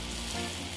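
Shrimp sizzling on a Cuisinart 360 flat top griddle for Creole shrimp and okra, a loud close continuous hiss and crackle filling the brief moment, with no talking.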